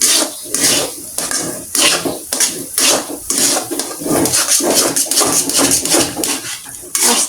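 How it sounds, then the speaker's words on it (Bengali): Semolina milk cake mixture stirred hard in a pan, a fast, steady run of loud scraping and clattering strokes close up, with no voices. "এটা জোরে জোরে নাড়া দিতে হবে, এখন অনেক জোরে জোরে নাড়া দিতে হবে।"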